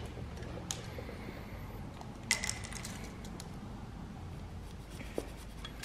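A marker squeaks and scratches across an aluminum table in faint, intermittent strokes, with a few small knocks against a quiet background.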